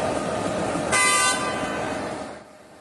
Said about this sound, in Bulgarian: Дизеловият локомотив е произведен през миналия век в Букурещ, специално за популярната родна теснолинейка.